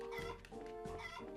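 A chicken clucks in short, repeated bursts over a steady low hum, close and fairly quiet, in the video game Trails in the Sky SC.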